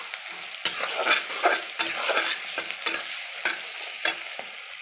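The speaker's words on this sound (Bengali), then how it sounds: "আমি ভালো করে এটাকে ভেজে নেব" Chili paneer sizzling as it fries in a pan while a utensil stirs it, giving a steady hiss broken by regular scraping strokes against the pan, close and fairly loud.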